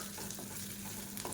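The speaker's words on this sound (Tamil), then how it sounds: "இப்போ மீடியமான ஃப்ளேமில் இதை வறுத்துக்கலாம்." Grated coconut frying in ghee over a medium flame gives a steady, close sizzle with faint stirring scrapes, continuous and evenly loud throughout.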